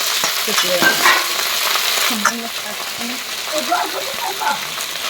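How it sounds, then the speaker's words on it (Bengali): Jute leaves are stirred in a pan of frying onion and garlic, giving a close, crackling sizzle broken by scraping stirring strokes. "এভাবে একটু নেড়ে নেড়ে নেড়ে দেবো।"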